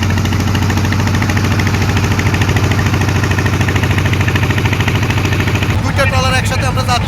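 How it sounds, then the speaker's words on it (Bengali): A fishing trawler's engine chugs steadily and loudly on a river, a continuous low rhythmic drone that runs throughout, with a brief shift in the noise near the end. "এই সেই জেলেদের মাছ ধরার ট্রলার।"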